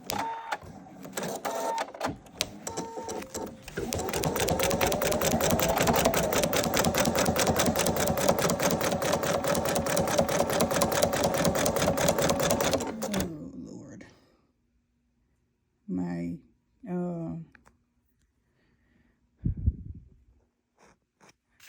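An embroidery machine runs a basting stitch on a towel, a fast rhythmic mechanical clatter lasting about ten seconds, then stopping, followed by a few short bursts of handling noise and brief speech.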